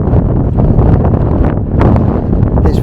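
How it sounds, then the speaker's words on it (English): Strong wind buffets an unshielded camera microphone outdoors at Bramley Moore Dock in Liverpool, a loud continuous low roar with gusty surges throughout and no speech. "God, it's really windy. You can probably hear that wind in the"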